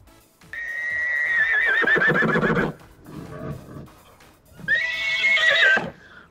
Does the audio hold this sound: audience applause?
no